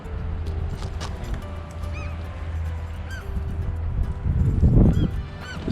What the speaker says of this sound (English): The seagulls have shown up now, lots of them.